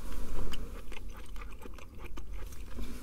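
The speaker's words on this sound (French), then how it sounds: "Il a un bruit très très très particulier quand on le mâche, ce qui est assez étonnant." Cheese curds from a sausage poutine being chewed close to the mouth, a run of soft squeaky crunches and bites over a low background hum, with no talking.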